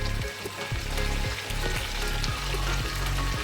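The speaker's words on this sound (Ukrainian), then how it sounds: "Піджарилась наша курочка з тиквою." Chicken pieces and pumpkin frying together in a pan for homemade risotto, a dense continuous crackling sizzle with low bubbling and occasional spatter, close and steady with no talking.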